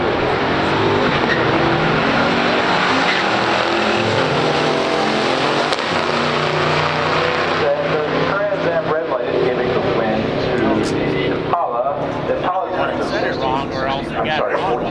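A 1964 Impala SS and a 1979 Pontiac Trans Am launch in a pure stock drag race, engines roaring loud and sustained under a crowd's chatter and a track announcer, the sound thinning as the cars pull away.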